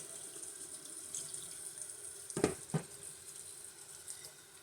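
Tap water runs steadily into a sink while doll hair and clothes are washed, a soft, fairly faint hiss with a few splashy bursts as items are moved under the stream.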